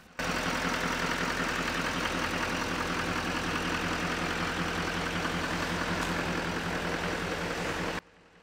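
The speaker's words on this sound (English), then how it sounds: "let's enjoy the sound of victory as we listen to this diesel idle" A 2015 Chevrolet Silverado LTZ's Duramax diesel engine idles steadily, a constant low rumble with a fine knocking texture, close and unbroken for several seconds with no voices.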